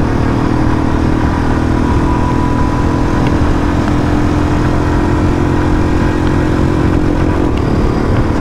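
Several motorcycles race together, a Bullet 350 BS6 among Apache RTR 180, KTM RC 125 and Pulsar 150 machines, giving a loud, steady, close engine roar with continuous revving and no pauses.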